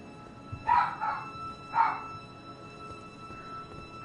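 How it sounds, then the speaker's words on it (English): A pet dog named Loki barks indoors, two or three short yaps close by, clustered in the first half and then trailing off into quiet room tone. "He barks muchly."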